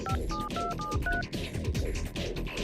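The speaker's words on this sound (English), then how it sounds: "Pay attention to the number I dialed." A telephone number is dialed as a quick string of about ten DTMF keypad tones, each a short two-note beep, played close and clear with no speech.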